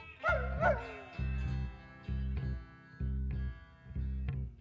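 A dog barks in repeated pairs and short bursts, loud and close, with a few higher yips and whimpering tones mixed in, recorded in an ancient amphitheater at Pompeii.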